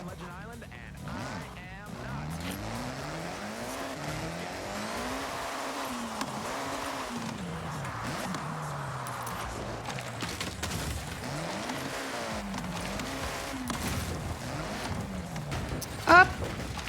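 A Ferrari driven in a video game, its engine tone rising and falling in repeated revving sweeps and gear changes, steady and moderately loud beneath ongoing talk.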